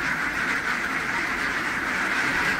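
A dense, continuous chorus of many ducks quacking at once, loud and close, as the birds are moved from a truck into their duck pen.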